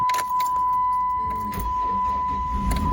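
A truck sitting unused for a week starts up and settles into an idle, a close engine rumble under a steady high whine, with jangling keys and brief clunks throughout.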